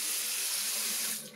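Water running steadily from a tap for handwashing, a close, continuous hiss and splash that eases slightly at the end, with no talk over it.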